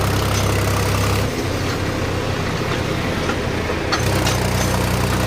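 Mahindra 265 tractor towing a loaded trolley of about ten tons uphill, its engine droning low and steady with a dip in tone midway and heavy rumbling and rattling throughout.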